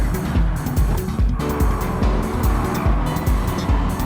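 Subaru BRZ in a racing video game, its engine revving hard through repeated gear changes with tires squealing, loud and steady throughout.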